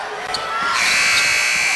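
A loud, sustained buzzer sounds at a boys' high school state championship basketball game, rising over a roaring crowd in a gym.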